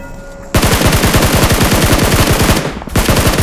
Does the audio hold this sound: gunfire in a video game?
yes